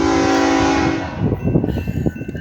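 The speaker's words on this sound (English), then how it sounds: "Ooh, a bunch of locomotives." A BNSF manifest freight train led by four locomotives passes close by, its horn blaring steadily before giving way to a loud, rumbling clatter of wheels and cars.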